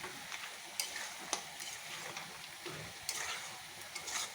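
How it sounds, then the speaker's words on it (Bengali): Potatoes fry in a pan and are stirred, giving sharp, irregular scrapes and clinks over a soft, steady sizzle, fairly quiet and close, with no talking. "এই যে আলুও ভেজে রাখছি বন্ধুরা"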